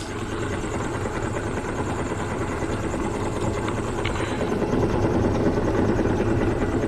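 A Suzuki 140 outboard engine runs steadily during a flush, giving a continuous loud motor drone with a deep low rumble that holds even and slightly swells toward the end, with no talking.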